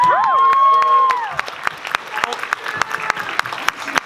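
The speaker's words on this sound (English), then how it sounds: "You guys give Oshun an applause." A Comic Con panel audience cheers loudly with high shouts and whoops at first, then the noise thins into scattered, sharp individual claps that continue sparsely to the end.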